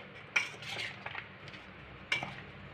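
A spoon scrapes and clinks against a bowl while salt and turmeric are worked into mango pieces for a tangy, spicy mango pickle, with two sharp metallic taps and softer stirring between them, close and clear.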